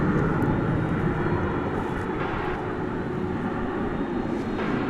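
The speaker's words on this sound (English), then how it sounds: "I think I counted 3 MD-11s here tonight." MD-11 airliner at DFW Airport at night, a steady broad jet engine roar that holds constant throughout, moderately loud and somewhat distant, with no talking.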